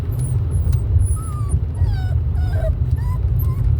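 A small dog, about 5.5 pounds, whimpering and yipping in soft, high, wavering whines spread across the clip over a steady low rumble of background noise.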